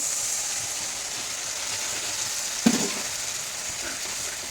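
Chicken sizzling and frying with masala spices in a pan, a steady close hiss throughout, with one brief louder clatter of stirring partway through.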